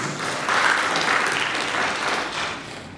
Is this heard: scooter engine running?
no